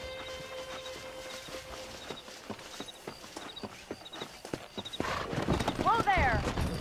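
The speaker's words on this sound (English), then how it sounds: "Let's see if we can't wrangle some horses." Horse hooves clip-clop in a steady walking rhythm in the video game Red Dead Redemption, then a horse whinnies loudly near the end, with voices talking over the scene.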